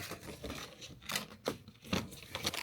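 Scissors cutting open plastic packaging, several short crisp snips and crinkles spaced irregularly, fairly quiet and close, with no talking.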